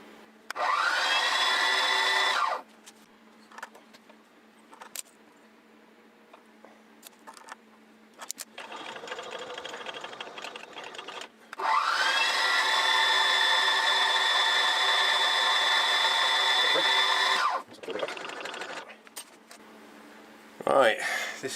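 A small drill held in a compact collet bores into a model steam engine governor part on a lathe, giving two long steady whirring machining runs with harmonic whine, separated by quieter handling and tool noise.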